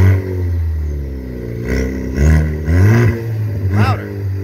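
A 2017 Ford Focus ST with a straight pipe from the cat back revs in a few quick, raspy blips, the exhaust note climbing and falling, close and loud, with voices over it.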